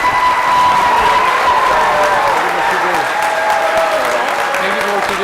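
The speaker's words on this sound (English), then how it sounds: "a great round of applause for Governor Rick Scott and the First Lady." An audience applauding Governor Rick Scott and the First Lady at a governors summit on disabilities: sustained loud clapping from a large crowd throughout, with someone talking over it.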